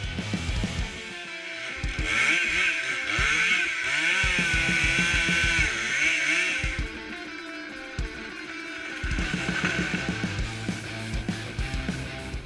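A chainsaw cuts into a big oak tree in a small forest, its engine roaring loud and steady for long stretches with brief dips between cuts, then revving hard again.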